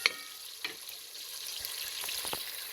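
Saltfish goes into a pan of steaming Jamaican-style calaloo, giving a soft, steady sizzle and hiss with a few faint clicks and taps, quiet and close.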